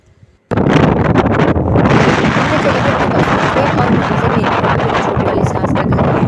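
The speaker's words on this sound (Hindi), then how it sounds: "इतनी तेज हवा वहाँ पे चल रही थी" Strong wind blowing through an Uttarakhand village, starting abruptly after a short quiet moment and then buffeting the microphone as a loud, continuous roar with rough gusts.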